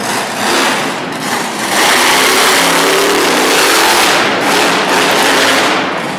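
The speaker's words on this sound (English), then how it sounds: "That's a truck you definitely hear coming. It's one of the loudest trucks in the business." Monster truck engine roaring loud and sustained at a Harrisburg, Pennsylvania arena show, one of the loudest trucks running, with broad revving swells and crowd-like wash throughout.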